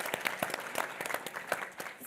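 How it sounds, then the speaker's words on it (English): A conference panel audience in a university hall applauds, a dense patter of many hands clapping at moderate distance and fairly soft, holding steady for a couple of seconds before easing slightly. "So I think we should just give them a round of applause."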